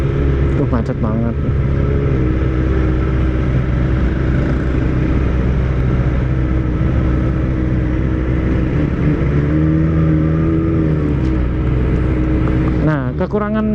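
A Kawasaki ZX25R motorcycle moves through heavy, stop-and-go traffic, with a continuous engine drone and other vehicles rumbling close by, and a rider talks over the noise.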